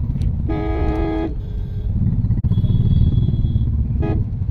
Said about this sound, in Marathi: सिग्नल सुटला ना हॉर्न वाजवत राहतात